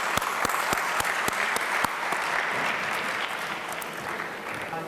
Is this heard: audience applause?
yes